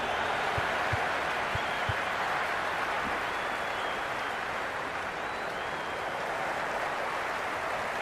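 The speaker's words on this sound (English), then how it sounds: "There's an almost tangible fervour throughout the crowd at the moment." A stadium crowd in the cricket video game Cricket 26 applauds in a loud, sustained wash of clapping and cheering, with a few sharp claps standing out early on.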